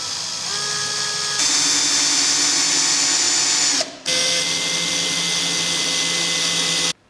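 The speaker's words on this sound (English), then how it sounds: "I'm just going to grab a 3mm drill bit and get those drilled" A power drill runs with a 3mm bit, boring holes during a Hitachi P20SB surfboard planer install: a loud whine spinning up, held for several seconds, a short pause, then another long steady run.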